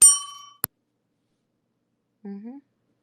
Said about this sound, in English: Can I get one more bell, Top?